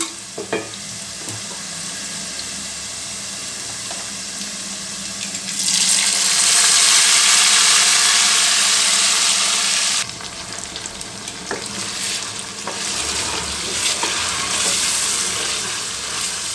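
Masala spices frying and being stirred in hot oil for aloo kadai, a steady loud sizzle throughout that swells to a brighter hiss midway, with occasional scrapes and light clinks of the spoon against the pan.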